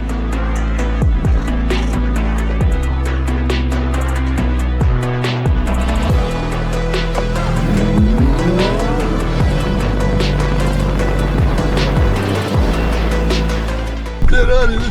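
Ferrari with 570 horsepower drag racing against an XPENG G9, engines roaring loudly with squealing tires and shifting revs throughout.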